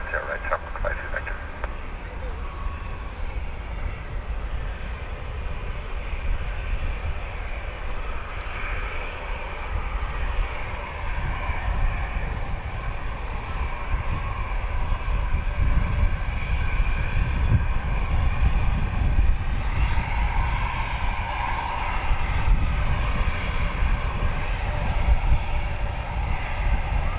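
Airliner engines rumbling steadily on runway 10 right at Dublin Airport, a broad low roar that builds slightly in the second half, heard at a distance.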